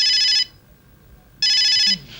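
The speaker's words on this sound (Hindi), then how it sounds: "ये मेरे मोबाइल की घंटी है, ये मेरे लिए बज रही है।" A bright electronic phone ringtone sounds in two loud bursts separated by a pause, close by over low background noise.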